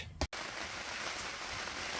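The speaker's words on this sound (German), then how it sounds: "jetzt kriegen wir hier auch noch ein bisschen Regen" Steady rain patters on the roof of a yurt, a dense even hiss throughout, interrupted near the start by a brief loud knock and a short dropout.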